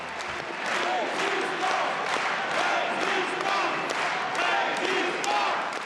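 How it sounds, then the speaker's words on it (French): A political rally audience applauding and cheering Jean-Luc Mélenchon, with dense clapping mixed with shouts and crowd voices, steady and fairly distant throughout. "Cécile Duflot est applaudie. Jean-Luc Mélenchon est acclamé."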